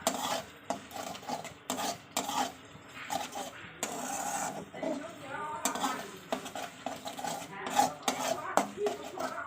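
Spice masala for chicken being stirred and fried in a pan, a busy run of scraping spatula strokes and utensil clatter against a low sizzle, close and continuous, with a voice briefly under it.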